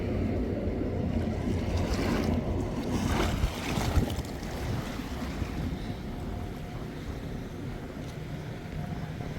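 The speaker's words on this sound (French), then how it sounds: "Les vagues arrivent." Waves washing onto the rocky shore at Martigues during a sea bream fishing outing, a steady broad wash of surf with some wind buffeting the microphone, continuous and close with no talking.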